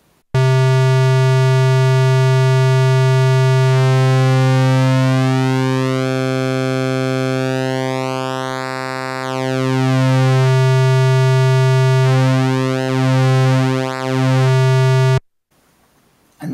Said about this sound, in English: change the shape of the square wave using pulse width modulation,